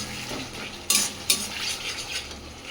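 Spice paste with tomato and salt being stirred and fried in a pan while cooking a Bengali fish curry: a steady low sizzle with scraping spoon strokes, two sharp metallic clinks standing out midway.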